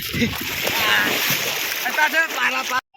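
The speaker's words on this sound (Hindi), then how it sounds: "अनि आम फाल्दैछु खोलामा" A mango is tossed into a river, making a splashing, splattering sound against continuous rushing water, with people talking throughout.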